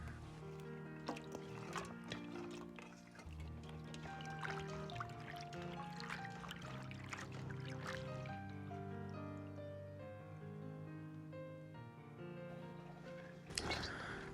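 Soaked shredded lotus root being rinsed in water, with continuous sloshing, trickling and dripping up close, light splashes over a long stretch and a brief louder burst near the end.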